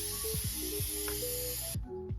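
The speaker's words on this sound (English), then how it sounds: "add some aluminum foil and then spray it with a little bit of cooking spray so it doesn't stick" A continuous hissing spray of cooking spray onto aluminum foil lasts nearly two seconds and stops abruptly, over faint rhythmic mechanical ticking in the background.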